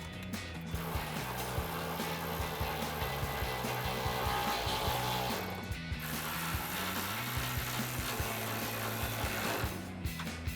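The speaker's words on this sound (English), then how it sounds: "And then we can grab our 10mm socket to tighten down our 2 bolts." Close, rapid clicking of a 10mm socket ratchet tightening exhaust bolts on a 2021-2023 Ford F-150 Flowmaster dual exhaust install, a steady ratcheting buzz that briefly pauses twice.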